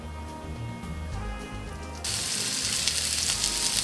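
Thinly pounded chicken hits hot olive oil in a frying pan over medium-high heat, a quiet hum suddenly giving way to a loud, steady, bright sizzle that continues evenly.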